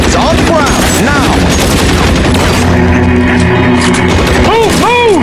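Rapid gunfire in the LA Noire video game as shots hit gasoline-filled barrels, dense loud bursts with booms over game music and shouting voices.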